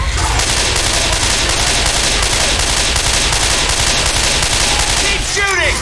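Sustained automatic gunfire from Left 4 Dead 2, a loud, dense and continuous stream of rapid shots that barely lets up, with a faint voice briefly audible underneath.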